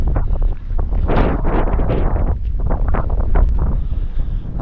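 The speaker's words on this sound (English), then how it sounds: "I'm sorry about the wind, guys, if it's quite windy, but it is very windy." Strong gusts of wind buffet the microphone in loud, roaring bursts that swell and fade over a constant rumble, outdoors at Mynydd Parys, North Wales.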